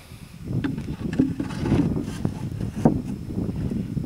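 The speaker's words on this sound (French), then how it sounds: "comme il y a un petit peu de vent" Steady wind gusts across an outdoor microphone beside a Warré beehive, a low broadband rumble that swells and eases throughout, with a few light knocks and no talking.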